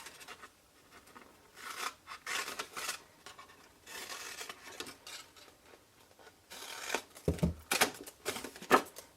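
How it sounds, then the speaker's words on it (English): Scissors snip through cardstock for a tall triangular treat box, a run of soft, close cutting strokes with short pauses and a few sharper snips near the end. "So I'm not cutting an exact triangle, just slightly more than that."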